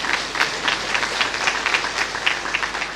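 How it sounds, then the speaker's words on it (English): Audience applause at an induction ceremony for new members, a steady, dense crowd clapping with a slight pulsing texture, continuous and fairly close for the whole stretch. "give him a round of applause"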